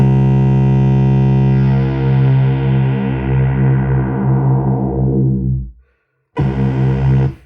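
A Black Pill BP synth plays a sustained buzzy three-saw oscillator tone, loud and thick with distortion, fading out before a short silence and a sudden return.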